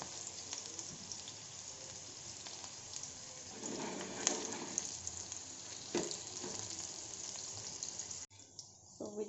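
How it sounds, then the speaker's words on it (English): Banana flower fritters frying in oil over a low flame, a steady soft crackling sizzle that swells slightly midway, then cuts off abruptly near the end. "Fry it in low flame."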